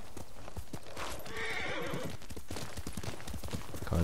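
A horse in the samurai game Ghost of Tsushima clops along with a brisk, rhythmic beat of hooves and lets out a clear whinny partway through, close and fairly loud.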